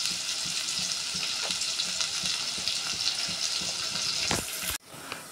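Onions stirred and frying in hot oil for a fish curry, a steady close sizzle with scraping stirs, ending in a brief louder burst before the sizzle drops away.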